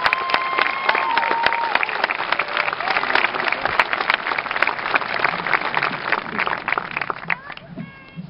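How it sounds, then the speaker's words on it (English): Sustained applause from a large audience at the Mahar Regional School class of 2015 graduation in Orange, Massachusetts: dense, steady clapping for about seven seconds with scattered voices mixed in, then tapering off at the end. "Please give them a nice round of applause."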